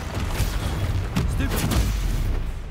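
The Bombarda explosion spell goes off in a Harry Potter video game as a deep, rumbling boom with a few heavy thuds and crackling debris, loud and close, over a low continuous roar.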